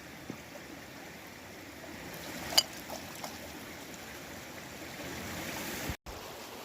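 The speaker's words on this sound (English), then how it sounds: "That little mini waterfall back there, it comes from the mountain where the Gossan showings are." A small mountain creek waterfall rushes outdoors as a steady, moderately quiet hiss, with a few faint splashes and a brief dropout near the end.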